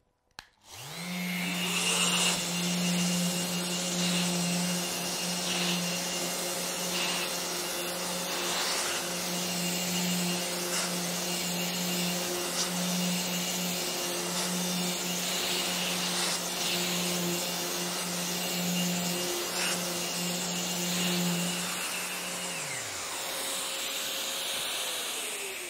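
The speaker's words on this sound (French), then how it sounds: "je vais maintenant poncer la moitié du panneau" Festool electric sander working a panel with 1500-grit abrasive for pre-polishing, a steady whirring motor hum with a high whine and hiss that spins up, runs evenly for about twenty seconds, then winds down.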